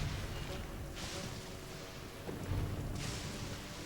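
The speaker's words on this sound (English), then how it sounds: "Hark! 'Tis thundering retribution." Thunder in the video game Genshin Impact, a rolling low rumble over a steady rain-like hiss, with brighter crackling bursts near the start and end and a heavier thump midway; moderately loud, no voices.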